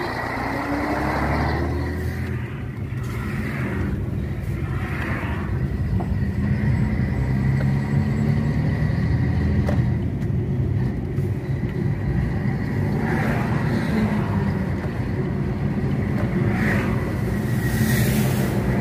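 A truck pulls away and drives off, its engine a steady loud rumble with rising gear tones and road noise lasting nearly twenty seconds, no talk.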